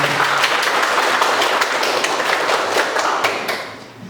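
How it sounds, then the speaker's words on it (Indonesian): Students in a classroom applaud together, a loud, close burst of many hands with sharp individual claps standing out. It carries on evenly for about three seconds, then tapers off. "Tepuk tangan untuk kita semua."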